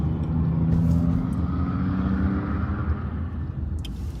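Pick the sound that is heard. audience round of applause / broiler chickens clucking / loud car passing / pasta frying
loud car passing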